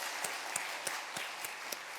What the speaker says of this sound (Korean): 우리 꽃다발 전해드릴 때 큰 박수로 축하해 주시기 바랍니다.